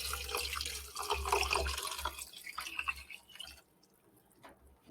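Four cups of water poured into a pot, a loud splashing, gurgling stream that tapers off into a few quieter drips.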